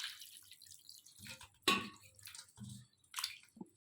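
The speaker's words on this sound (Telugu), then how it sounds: "చికెన్ శుభ్రంగా కడుక్కుందాం వాటర్ పోసి" Water is poured over raw chicken pieces as they are washed, giving quiet, separate splashes and squishy drips in a few short bursts, close and faint, with no talking.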